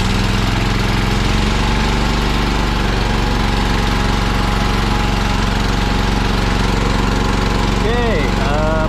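A John Deere 212 garden tractor engine runs close by at a steady, loud idle, a droning chug that holds through the whole stretch with no pause.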